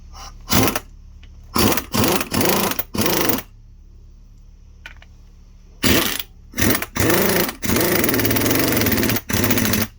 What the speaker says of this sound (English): I'm gonna use air impact. It's gonna get a little loud.